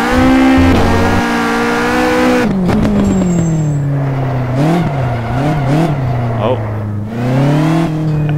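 A Caterham 620R sports car is driven hard in first gear around a kart track, its loud engine droning and shifting pitch as it revs and eases off, with someone talking over it throughout.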